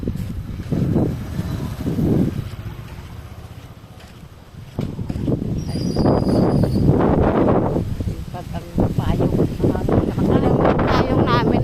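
Strong wind buffets the microphone in loud, rumbling gusts, with a brief lull before it picks up again and roars steadily.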